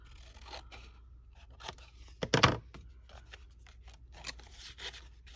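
Scissors snip through paper for a collage journal, a few soft quiet cuts and then one sharp, louder slicing snip close to the mic, with light paper rustling around it.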